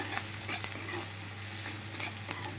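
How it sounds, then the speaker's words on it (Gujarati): Onion frying in about a spoonful of oil gives a soft, continuous sizzle with crackling pops and stirring scrapes, fairly quiet and close, under a low steady hum. "1 ચમચા જેટલું તેલ નાખ્યું છે, એની અંદર ડુંગળી શેકાવા દઈશું"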